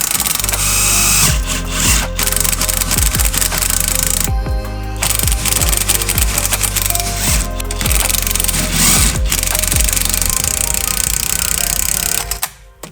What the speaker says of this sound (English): I'm hoping to give this a major whack with the impact, crack that nut loose